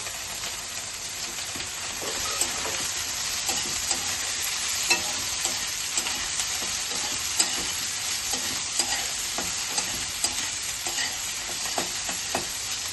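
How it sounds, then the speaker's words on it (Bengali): Diced potato and eggplant fry in a pan with a loud, continuous sizzle, punctuated by regular spatula scrapes and taps throughout, with nobody speaking. "আলু আর বেগুনটা এরকমভাবে কেটে রেখেছি ডুমো ডুমো করে, তো এটা আমি দিয়ে দিচ্ছি। একটু ভাজা ভাজা করে নিচ্ছি এটা।"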